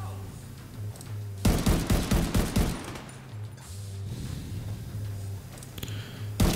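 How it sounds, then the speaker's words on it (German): Gunfire in the video game The Division 2: a loud burst of rapid shots, then quieter scattered shots later on, over a steady low background hum. "Er schießt auf mich."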